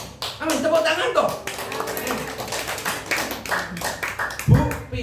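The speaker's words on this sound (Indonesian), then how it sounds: "Tepuk tangan toh." Scattered hand clapping from a congregation at a worship and prayer night, uneven taps under a voice still talking, with a sharper burst near the end.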